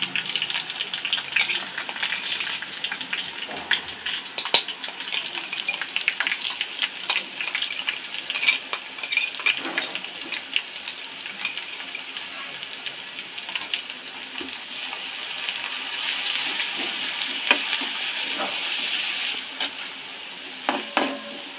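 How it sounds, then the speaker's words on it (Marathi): Garlic, ginger and green chili paste frying with onion in a pan for a dry vegetable bhaji, a continuous close sizzle with frequent scraping stirs throughout. "कांदा थोडासा परतला की हे जे आपण वाटण बनवून घेतलं आहे लसूण आलं आणि मिरचीचं ते टाकायचं"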